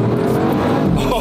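A Bugatti hypercar accelerates hard on a full-throttle run, a brief loud roaring rush that sounds close, with a voice mixed in over it.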